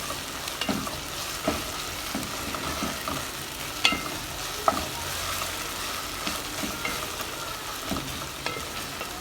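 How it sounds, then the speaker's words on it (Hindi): Onions with ginger garlic paste fry in a pan for a green onion egg dish, a steady moderate sizzle punctuated by repeated spoon clinks and stirring scrapes, no voices. "अच्छे से हिलाते रहें ताकि सब जगह से इवनली कुक हो हमारी प्याज।"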